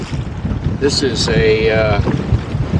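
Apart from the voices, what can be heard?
wind over a choppy bay during a boat ride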